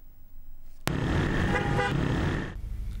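A car horn blares in one long, loud honk for nearly two seconds over the rumble of nearby traffic.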